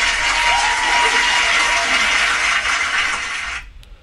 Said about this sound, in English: Give that man a round of applause